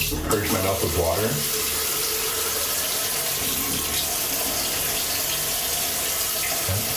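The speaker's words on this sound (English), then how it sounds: "let's purge my mouth with water" Water running from a tap while a mouth is rinsed, a loud steady gush that starts with a brief gargling, sloshing burst, then flows on continuously.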